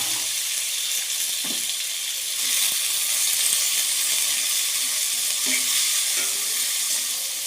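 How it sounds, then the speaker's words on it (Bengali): Chopped potatoes fry in hot oil in a pan for a Bengali-style egg bhuna, producing a continuous, loud, bright sizzle with occasional soft stirring clicks and no talking. "আমি এখন আলুটাকে ফ্রাই করতেছি।"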